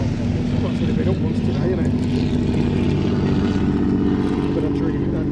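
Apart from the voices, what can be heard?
Bristol Fighter biplane departing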